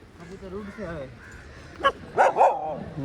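A few sharp dog barks ring out near the end, following a stretch of people talking nearby as a large flock of pigeons flies about.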